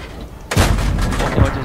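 A cannon in a video game fires once with a loud, sudden boom that stays as a rumbling roar, followed by a second thump about a second later.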